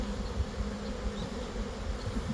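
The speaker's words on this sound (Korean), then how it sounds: "오 꿀벌 천지죠" Many honeybees hum in a steady, dense drone, close and continuous with no talking, on a warm spring day.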